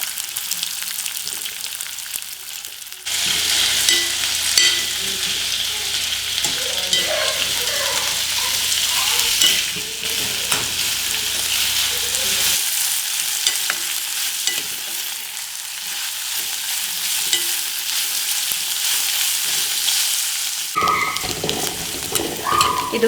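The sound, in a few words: sliced onions frying in hot oil for biryani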